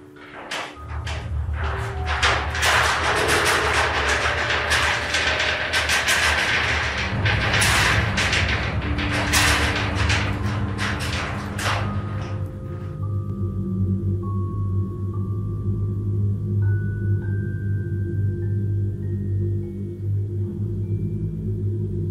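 Garage doors rattle and shake violently for several seconds, a loud continuous banging and rumbling that later settles into a low steady drone with rising tones.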